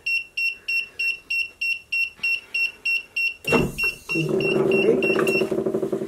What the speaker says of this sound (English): And this is an automatic open, so you're gonna hear a beep.